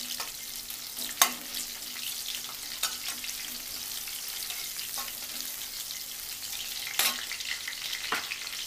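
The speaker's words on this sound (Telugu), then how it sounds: "ఇవి కొంచెం లైట్గా వేగనిద్దాం." Green chilies, cut into two or three pieces, fry lightly in hot oil for a pepper chicken dry dish, giving a steady soft sizzle with a few sharp crackles and pops.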